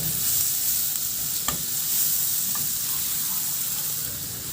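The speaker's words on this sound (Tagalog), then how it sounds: "Magtunaw muna ako ng butter. Habang pinapatunaw natin yan, ilagay ko na rin yung bawang." Garlic sautéing in melted butter for buttered garlic shrimp, a steady close sizzle and hiss with a few soft stirring clinks of a utensil against the pan.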